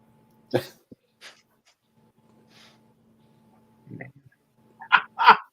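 A dog makes a few short snorts and sniffs, then whimpers and breathes in quick bursts near the end, heard close in an otherwise quiet space.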